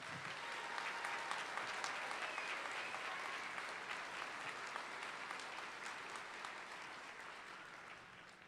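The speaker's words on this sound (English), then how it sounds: "Let's give him one more big round of applause." A large college commencement crowd applauding continuously, a dense wash of claps that holds steady throughout and eases slightly toward the end.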